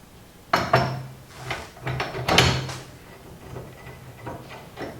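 Metal clanks and clunks as a crank handle is fitted onto a Woodward Fab bead roller, a handful of sharp knocks and rattles close by with quiet gaps between.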